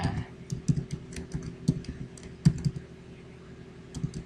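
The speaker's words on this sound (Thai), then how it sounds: "ลองพิมพ์ดูนะครับ" Typing on a computer keyboard, quiet irregular key clicks and a few louder taps in uneven bursts, close and alone with faint room hum.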